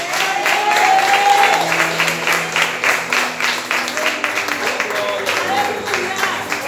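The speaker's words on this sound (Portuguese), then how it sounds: "Pode aplaudir Jesus." Church congregation applauding during a Portuguese-language sermon at a revival service, sustained clapping in pulsing waves with voices calling out above it.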